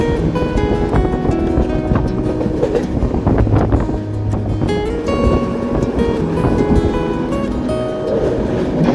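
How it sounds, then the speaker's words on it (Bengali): Steady, loud rumble and rattle of the Rangpur Express train running at speed between Dhaka and Tangail, continuous throughout with a rhythmic clatter of wheels on track. "এই মুহূর্তে আমাদের ট্রেন রংপুর এক্সপ্রেস কিন্তু দ্রুত গতিতে ছুটে চলেছে"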